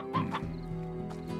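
Rooster clucking in the video game Slime Rancher, a few short throaty clucks near the start over a steady humming game soundtrack, moderately faint.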